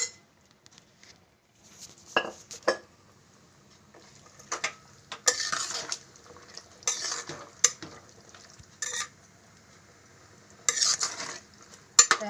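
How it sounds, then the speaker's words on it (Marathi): A spoon stirs mixed legumes into cooked vegetables in a pot. Scraping strokes and clinks come in irregular bursts with quiet gaps between them. "ते आपण मिक्स करून घ्यायचे।"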